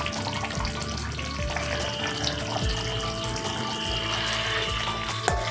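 Rui fish curry with coriander leaves and garam masala bubbles and sizzles loudly in a pan as it is stirred, a dense, continuous frying noise with steady low rumble throughout.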